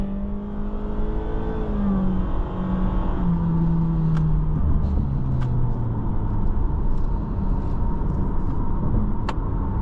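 A 2023 Honda HR-V Sport driven in sport mode, its engine droning steadily from inside the cabin with a slowly rising then falling pitch over road noise, no talking.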